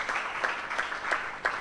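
A seminar audience at a breast cancer training event gives brief applause for a patient, a soft wash of clapping with a few sharper claps standing out at a fairly even pace.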